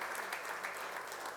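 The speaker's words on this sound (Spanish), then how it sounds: "fuerte el aplauso para la doctora" Applause from an audience at a book presentation and exhibition opening, a steady, dense wash of clapping sustained evenly throughout without a break.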